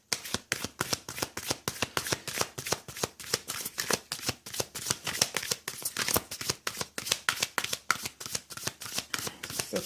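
Romance Oracle cards are shuffled by hand in a steady run of crisp, rapid riffling flicks, close and fairly quiet, with no talking over them.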